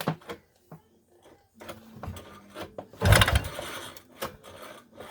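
Ski-Doo Everest snowmobile engine, loose and not bolted down, on a first start attempt: scattered clunks and short cranking bursts build into a louder churning turnover near the middle, then drop back to intermittent knocks, close by.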